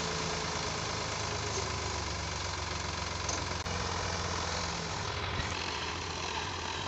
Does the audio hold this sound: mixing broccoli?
no